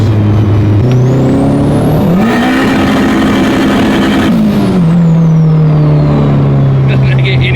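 The tuned engine of a 600whp Honda Civic roars loud and close on a dyno, holding a steady drone that climbs into a higher rev, stays there and then settles back down. Voices can be heard under it.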